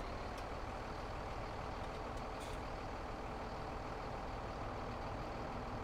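A tow truck in Farming Simulator 17 drives along with a load in tow, its engine giving a steady, unbroken drone with no voices.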